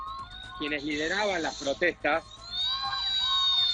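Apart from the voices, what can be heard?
fire truck siren passing by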